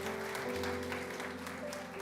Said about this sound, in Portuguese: Você pode aplaudir o Senhor Jesus?